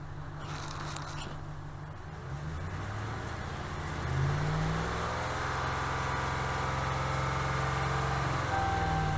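Hemi V8 engine with a misfire fault code idles close by, then is revved once midway, its pitch rising and settling into a higher steady drone, no talk.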